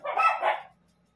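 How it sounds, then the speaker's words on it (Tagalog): Dogs give two quick sharp barks, close and moderately loud, followed by quiet. "Itong mga aso ko,"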